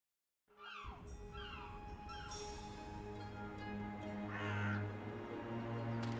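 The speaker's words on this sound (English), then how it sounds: "I wish Crow was with me. I feel less alone with that silly bird around" Crow caws in the video game Dreamfall Chapters, a few hoarse calls in the first seconds over a steady ambient music bed, moderately near.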